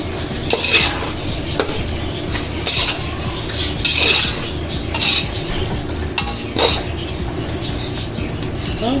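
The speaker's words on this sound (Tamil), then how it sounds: "அதையும் போட்டு நல்லா கிளறி விட்டுருங்க" Vegetable rice mixture with mint and coriander being stirred in a pan, a steady scraping and clinking of spoon against metal with soft sizzling underneath, repeated strokes close up.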